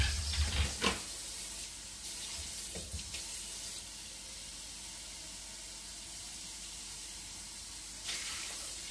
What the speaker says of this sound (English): what we're going to do is we're going to add some water